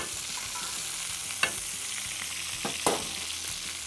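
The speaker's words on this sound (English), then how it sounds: "We start to baste. Infusing all those flavors, adding a little bit more fat flavor from the butter." Beef tenderloin sizzles steadily in a pan as it is basted with butter and fresh rosemary, a constant close frying hiss broken by a few sharp spattering pops and light utensil clinks.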